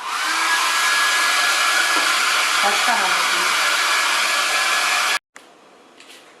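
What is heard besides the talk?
hair dryer drying paint on MDF box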